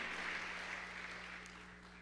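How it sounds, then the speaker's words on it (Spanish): Applause from a church congregation at a Spanish-language evangelical service, a steady broadband patter of clapping that stays moderately loud and slowly fades over two seconds, with a faint low hum beneath and no voices. "Dele un aplauso fuerte a Dios."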